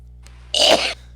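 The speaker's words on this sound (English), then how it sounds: "That was a cough." A single sharp cough bursts out after a faint breath, short and fairly close over a quiet room during a tabletop game session, with no talk around it.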